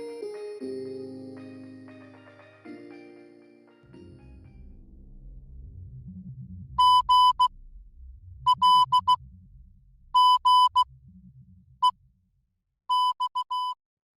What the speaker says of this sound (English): The next portion of the audio seems to be Morse code.